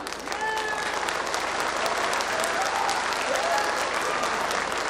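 A large audience at the Shravasti Mahotsav festival gives dense, steady applause, loud and unbroken throughout.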